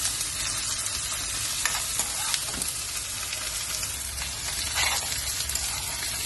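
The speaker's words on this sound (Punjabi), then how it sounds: "ਆਪਾਂ ਬਸ ਪਿਆਜ਼ ਪੁੰਨ ਲਾਂਗੇ ਥੋੜਾ ਪਿਆਜ਼ ਨੂੰ ਸੇਕ ਲਾਂ ਜੇਗਾ" Chopped onions sizzle and crackle steadily in a hot pan for a Punjabi turnip (salgam) curry, with occasional stirring scrapes over a constant broadband hiss and no voices.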